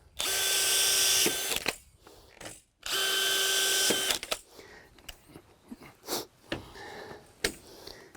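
Power drill driving screws into deck boards during deck building: two long, loud, close bursts of whirring motor, then short clicks, taps and handling noises, with no speech.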